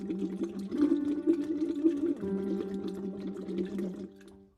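Bubbles blown through a straw into a cup of water as a singing voice exercise, a continuous bubbling gurgle with a hummed tone running underneath, steady for about four seconds before fading out.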